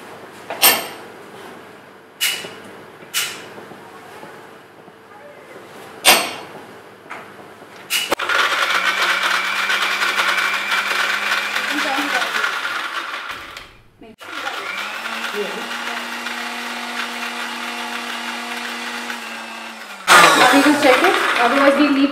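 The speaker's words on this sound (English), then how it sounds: "Now we'll grind this to a fine paste." A mixer grinder runs twice, grinding soaked brown rice into a fine paste for a soya milk firni. Sharp knocks and clatter come first, then a steady loud motor whine, a brief pause, and another long grinding run.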